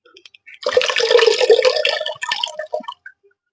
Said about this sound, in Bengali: এইভাবে চিপে আমি জলটাকে ঝরিয়ে নিলাম